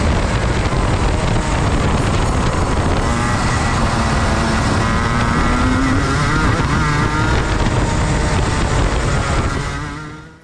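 A go-kart engine drones loudly and continuously through a fast lap on a track, its pitch rising and falling with acceleration and braking through the turns, fading out at the very end.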